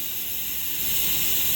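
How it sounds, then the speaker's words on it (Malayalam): A pressure cooker cooking rice at a roadside eatery releases steam in a loud, continuous high hiss that holds steady and swells slightly toward the end, with no talking. "Ebro cooker വിസിലടിച്ചു."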